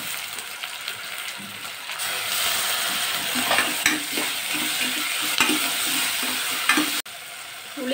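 Tomato added to frying onions and stirred with a utensil, a loud continuous sizzle broken by rhythmic scraping strokes against the pan, with a brief sharp knock near the end.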